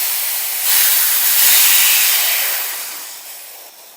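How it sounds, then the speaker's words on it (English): A PCP airgun compressor hose venting pressure through an opened bleed valve, a loud close hiss of escaping air that swells and then gradually tapers off over a few seconds. "I'm going to bleed that pressure off by turning the bleed valve"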